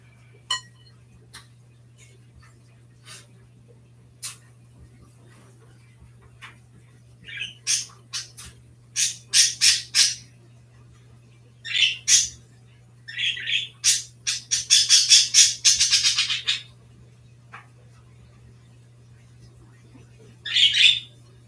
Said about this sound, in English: Doing birds while I'm listening to birds.